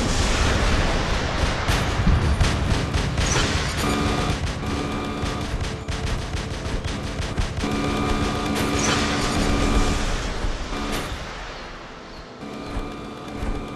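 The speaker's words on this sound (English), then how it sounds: "And now my machine gun is chilling. Probably doesn't like how much I'm beating it to death." Machine gun fire in the robot combat video game War Robots: dense, continuous loud bursts rattling nearly nonstop for about fourteen seconds, briefly easing near the end, with no talk.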